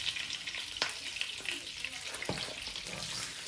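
A grilled cheese sandwich fries in a pan on medium heat, its steady close sizzle running throughout with a few sharp spits and pops breaking through.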